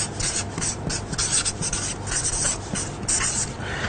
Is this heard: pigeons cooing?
no